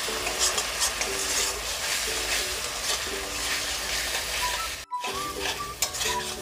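Turmeric powder and salt being stirred into a sizzling pan for an egg curry, a constant close fry hiss under regular scraping strokes of a spatula, with a brief drop to silence near the end before stirring resumes.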